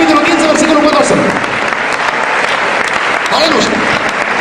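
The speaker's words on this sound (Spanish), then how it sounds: "Un aplauso, una alabanza para el Señor." Church congregation applauding in praise during a Spanish-language sermon, loud, close, sustained clapping with cheering voices mixed in throughout.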